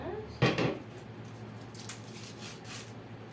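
A knife cuts into a palmyra tuber with one clear, crunchy slice near the start, then a few fainter scrapes and taps, close by over a low hum.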